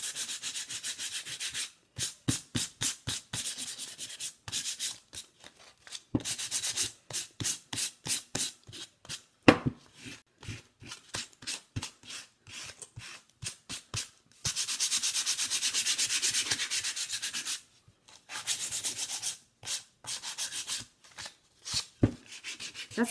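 Sandpaper rubbed by hand across a wooden sign to distress it, rapid back-and-forth strokes in quick rhythmic bursts with a few longer continuous passes, close and steady with no voices.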